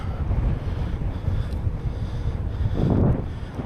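Steady headwind batters the microphone while gravel cycling in the Loir-et-Cher countryside, a constant low roar swelling louder near the end, with no voices.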